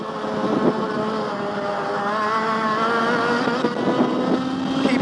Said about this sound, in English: The engine feels more torquey than a normal Formula A.